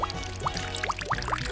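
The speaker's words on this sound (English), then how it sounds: "Lastly, I'll add the dirty water." Dirty water is poured over rocks and colored gravel in a homemade bottle purifier, making a run of quick rising glugs and bubbly gurgles as the container fills, close and clear.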